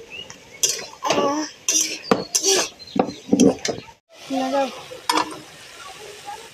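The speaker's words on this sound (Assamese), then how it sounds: "এতিয়া মই অলপ লৰাই দিছোঁ" Drumstick flowers and eggplant are stirred in a pan with a utensil, making scraping clinks and a soft sizzle in short bursts while a person talks over them.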